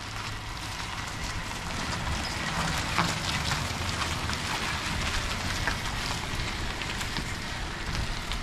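Rain falls steadily outdoors, a dense, even hiss with scattered patters that keeps a constant loudness from start to finish, with no voices.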